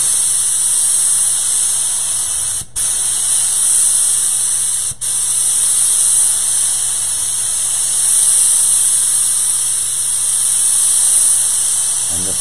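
Steady, loud hiss of a spray gun laying down HOK basecoat paint in overlapping fan passes, continuous throughout with two brief cutoffs between passes.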